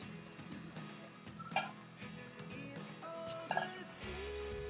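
Washed chicken pieces tumble into hot oil with fried onions and chilli, setting off a steady sizzle with light stirring and a couple of sharp clinks of a utensil against the pan.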